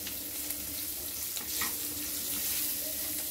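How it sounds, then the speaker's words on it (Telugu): Green chillies frying in oil for mutton paya, a faint, steady sizzle with light stirring noises and no talk. "పచ్చిమిర్చి వేసి వేగుతున్నప్పుడు ఉల్లిపాయలు వేస్తున్నాను"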